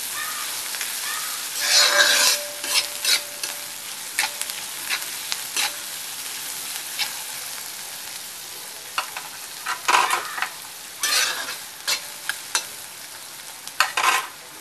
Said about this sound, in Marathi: कांदा थोडस आपण शिजवून घ्यायचे।